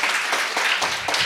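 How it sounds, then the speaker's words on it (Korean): An audience applauds during the opening ceremony of a carbon-neutral campus forum at Seoul National University, a brief, dense, loud burst of many hands clapping together. "큰 박수 부탁드립니다."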